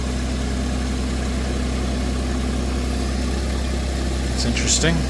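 A tractor engine idles at low RPM on plow day, giving a steady, close, low rumbling drone throughout, with a person speaking briefly over it.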